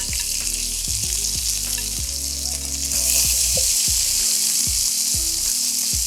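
Smashed baby potatoes with garlic and rosemary fry in a hot pan with a loud, dense, continuous sizzle and crackle, growing slightly stronger partway through.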